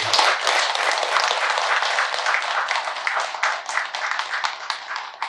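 Steady, dense applause from a congregation at a Buddhist temple family service, many hands clapping continuously and fairly loud, tapering slightly toward the end.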